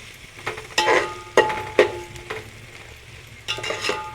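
A spoon scrapes and stirs a sizzling tempering with a pinch of asafoetida in a pan for a jackfruit vegetable dish. Several distinct metallic scraping strokes rise over a soft, steady fry.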